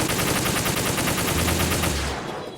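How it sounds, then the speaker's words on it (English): Rapid automatic gunfire bursts from bump firing in a Metal Gear Solid game, a dense, continuous rattling volley of shots that runs loud for about two seconds before cutting off into quiet. "time to start bump firing"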